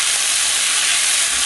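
Onion frying in a pan while being stirred, a steady bright sizzling hiss, loud and close, holding evenly throughout with no voice over it.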